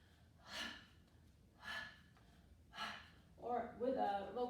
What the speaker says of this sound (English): you can use a hara breath